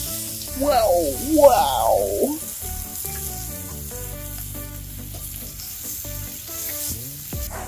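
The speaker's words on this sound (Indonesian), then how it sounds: "Ini kita pan grill." Chicken sizzles and fries on a pan grill, a steady hiss close and loud throughout, with a voice talking over the start and a brief exclamation.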